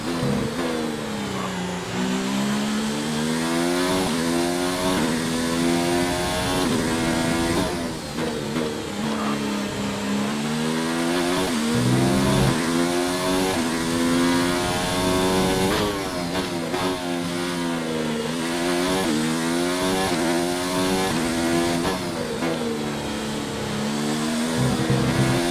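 A Formula One race car engine in a sim racing game at the Russian Grand Prix, loud and continuous, revving up and down through gear changes with harmonic pitch sweeps for the whole stretch, no talk over it.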